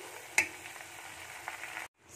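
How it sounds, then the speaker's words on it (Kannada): Homemade ghee sizzling and bubbling in a pan, a soft steady crackle at close range with one brief sharp tick early on, cutting off abruptly near the end. "ಕುದಿಸ್ತಾ ಇದ್ದೀನಿ."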